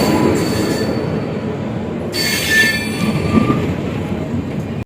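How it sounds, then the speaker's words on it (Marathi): The Siddheshwar Express pulls into platform 1 at Kurduwadi station, wheels grinding loud and close, and sharp high squeals break out partway through as the train slows. "आपली सिद्धेश्वर एक्सप्रेस आली आहे प्लॅटफॉर्म नंबर 1 वर."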